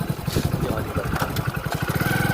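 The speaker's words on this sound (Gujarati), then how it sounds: "આ જો બાઈક અમારું ચાલુ કરી દીધું છે" A motorcycle's engine runs after starting, a close, rapid mid-pitched throb with steady pulses and a faint whine on top, heard alone for a couple of seconds.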